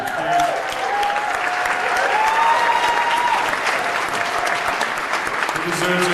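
Sustained, dense audience applause fills a theatre dedication ceremony at the USF Engelstad Shakespeare Theatre, steady and loud throughout with a faint murmur of voices mixed into the clapping.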